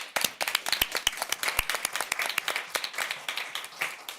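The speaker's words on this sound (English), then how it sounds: "let's give them a round of applause" A room at a school board meeting breaks into applause for the media specialists, dense and fairly close, with sharp individual claps standing out and a steady rhythm throughout.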